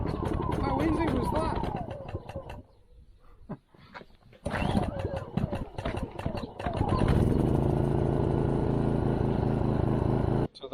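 A brand-new MaXpeedingrods MXR 3300W petrol generator is started on choke outdoors. After a few sharp, uneven bursts and pauses, it settles into a loud, steady, close mechanical drone that carries on to the end.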